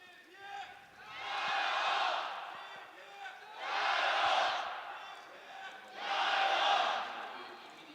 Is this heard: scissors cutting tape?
no